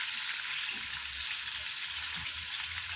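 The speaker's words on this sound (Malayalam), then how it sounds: "പിന്നെ ഒരു 3 പച്ചമുളക് ഇത്രയും ഇട്ട് കൊടുത്ത് നന്നായിട്ടൊന്ന് വഴറ്റുക" Onions and three green chillies sauté in a hot pan for spicy chicken mandi, giving a steady, close, even sizzle and crackle that runs the whole time with no talking.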